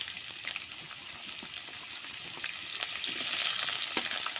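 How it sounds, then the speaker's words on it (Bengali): Chopped onion and green chili fry in hot oil in a wok, giving a steady close hiss with scattered crackles and faint stirring scrapes, no voices. "তেলটা গরম হয়ে গেছে এবার আমি পেঁয়াজ আর কাঁচা লঙ্কা দিয়ে দেবো"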